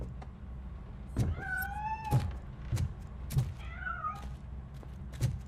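A cat meows twice in a video game, with rising and falling tones, set against a low rumbling background and a few sharp clicks.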